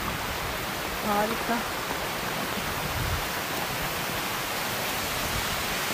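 Steady broadband rush of a waterfall in a city forest, loud and constant, with a brief voice and some speech over it.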